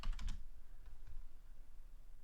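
Computer keys tapped quickly for a paste shortcut while patching dwm on Debian Bookworm, a short cluster of crisp clicks at the start followed by a few faint scattered taps, quiet and close.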